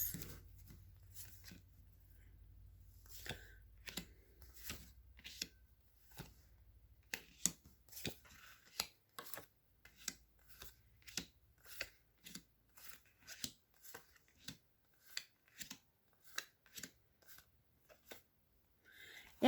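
Tarot cards are shuffled and handled, giving a close, irregular series of crisp snaps and flicks, several per second, with a faint low hum underneath.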